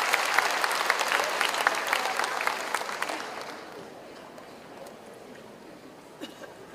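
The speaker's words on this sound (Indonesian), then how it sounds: "Kita beri tepuk tangan untuk Ketua MPR kita." A crowd at a thanksgiving gathering of an orphans' Islamic boarding school applauds the MPR chairman, with a full burst of clapping for about three seconds that then fades to a low murmur of scattered, dying claps.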